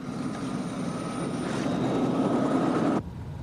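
Helicopter arriving for a pickup, a steady loud rotor and engine roar held close for about three seconds before cutting off abruptly.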